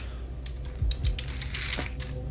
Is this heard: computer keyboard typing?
yes